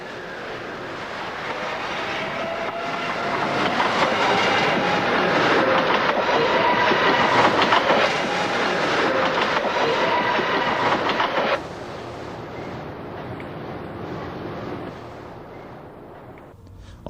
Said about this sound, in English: A 4-car Silverliner heads to Philadelphia on the main line to Harrisburg.